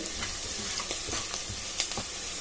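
Onions frying in oil for a ridge gourd gravy curry, heard as a dense continuous sizzle with scattered stirring scrapes, close and moderately loud, no voices.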